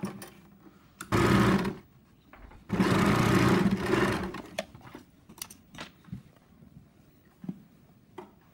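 An electric sewing machine stitches a seam along a blouse sleeve in two runs of steady, rapid whirring, the second longer, with soft clicks and fabric handling in the quiet gaps.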